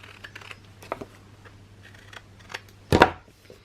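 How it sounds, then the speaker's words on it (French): Scissors snip the corners off a paper pocket for a Christmas album, with soft paper rustles and a few light cuts ending in one sharper, louder snip. "On va biseauter les trois coins."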